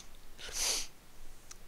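A single sharp sneeze, close and fairly loud, a breathy burst of about half a second with a faint sniff shortly after.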